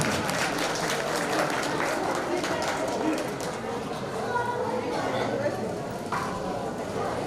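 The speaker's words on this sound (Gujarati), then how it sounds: "આપણે બધા જોરદાર તાળીથી એનું સ્વાગત કરશું." Warm applause from a gathered audience at a community get-together honoring someone, continuous clapping of moderate loudness throughout, with some voices mixed in.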